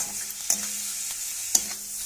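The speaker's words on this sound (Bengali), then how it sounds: "দিয়ে তারপর নাড়বো। নাড়তে শুকিয়ে যাবে।" Radish curry (mulor ghonto) cooked without onion or garlic is stirred in a frying pan, giving a steady soft sizzle with two sharp scraping clicks of the spatula about a second apart.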